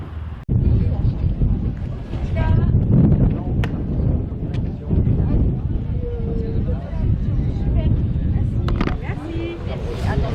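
Strong wind buffets the microphone outdoors at a Dakar Classic rally site, a steady loud rumbling roar that persists throughout, with faint voices beneath it.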